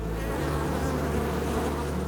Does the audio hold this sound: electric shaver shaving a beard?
no